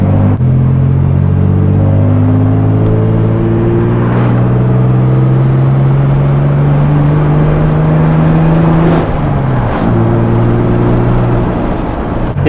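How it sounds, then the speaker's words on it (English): A Toyota T100 pickup engine revs under throttle, a loud, close drone rising steadily in pitch for several seconds, briefly dropping, then climbing again, with no talking. "Give it a little gas."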